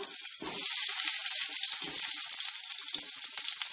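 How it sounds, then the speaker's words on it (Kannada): Onion frying in a couple of teaspoons of oil in a pan, a loud, steady close-up sizzle with a few soft stirring scrapes, no voices. "ಒಂದು ಎರಡು ಟೀ ಸ್ಪೂನ್ ಅಷ್ಟು ಎಣ್ಣೆ ಹಾಕ್ತಾ ಇದ್ದೀನಿ ಆ ನಂತರ ಈರುಳ್ಳಿ ಹಾಕ್ಕೊಳ್ಳೋಣ"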